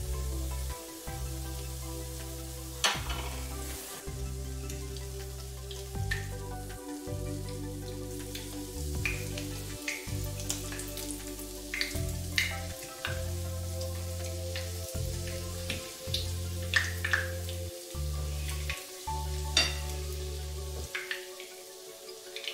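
Buttermilk pancakes (oladyi) frying in oil in a pan over moderate heat, a steady soft sizzle and crackle with small pops, continuous and close, no voice.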